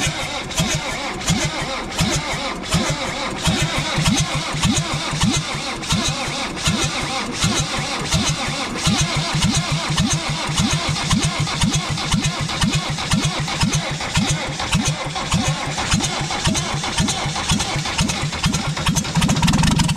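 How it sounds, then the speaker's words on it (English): A sports dumper engine with leaky valve seats cranks over and over in a long, fast, rhythmic churn, sputtering and popping with backfires as it tries to fire, loud and near throughout. "We are backfiring a little bit, but I think the valve seats are leaking a little bit"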